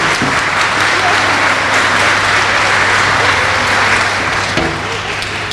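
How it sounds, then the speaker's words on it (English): An audience at a school beginner strings concert applauds, a dense, steady burst of clapping that fills the hall for several seconds and eases slightly at the end. "Let us give them a round of applause."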